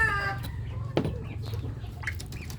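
Native backyard chickens with chicks cluck in short, close bursts, including a sharp squawk, over low background noise.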